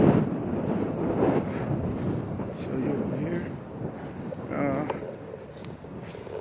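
Wind buffets the microphone in a steady low rumble while someone talks over it outdoors.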